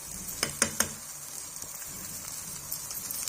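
Mooli paratha frying in desi ghee on a hot tawa gives a steady soft sizzle, with a few sharp crackles near the start and no talk over it.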